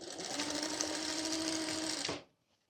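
A sewing machine stitches through fabric with a steady, fast mechanical whir for about two seconds, then stops abruptly, heard up close with no talking.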